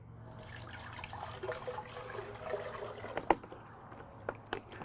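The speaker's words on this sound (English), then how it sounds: "I'm going to start by adding a little bit of water to this." Water poured into a blender over berries for a detox smoothie, a steady liquid trickle and splash with a few sharper knocks near the end, fairly quiet and with no talking.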